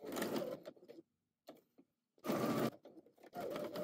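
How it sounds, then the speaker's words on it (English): A sewing machine runs in short quiet bursts, three separate stitching runs with pauses between, as pocket flaps placed right sides together are sewn around the perimeter. "pair them right sides together and sew around the perimeter"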